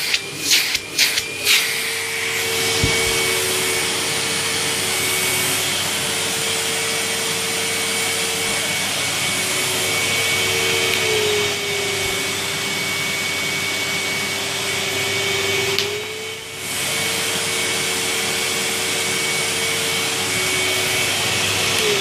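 Two Numatic Henry vacuum cleaners, an HVR200-A2 and an HVR200-12, run together after a few clicks at the start, producing a steady loud motor whine and airflow rush that dips briefly mid-way, with no talking.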